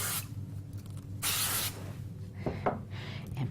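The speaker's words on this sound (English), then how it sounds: "I'm going to use a little bit of spray glue on the back here" Spray glue hisses from an aerosol can onto the back of a craft die cut in two or three short close bursts, the longest lasting about half a second.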